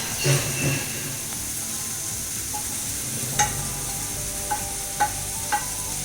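Jeera powder, dhania powder and dry mango powder sizzle in a hot pan, a steady quiet fry broken by a few sharp scrapes and taps of a stirring spoon.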